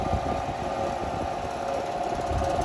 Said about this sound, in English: Part of the rattle is the blades,